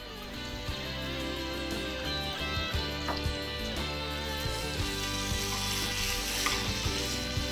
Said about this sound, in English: We'll take a fresh pan और इसमें बनेगा अब इस कड़ी का तड़का.